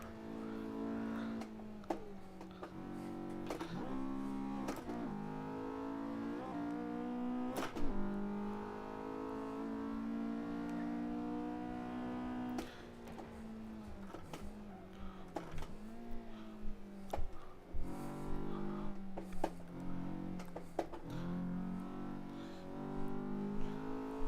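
A JS Racing Honda S2000 revs hard in Assetto Corsa on the Gunsai Touge mountain pass, its engine note rising and falling repeatedly with sharp gear changes and continuous throttle throughout.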